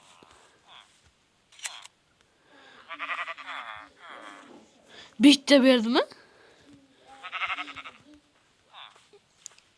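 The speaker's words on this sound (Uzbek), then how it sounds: "qaychi bilan mana uni yunini olib qo'yamiz." In the Minecraft video game, a sheep is sheared with scissors: blocky bleats sound alongside brief clicky snips, mixed with a person talking close to the microphone.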